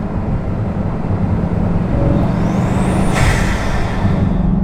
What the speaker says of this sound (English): having 4 turbos have compressor surge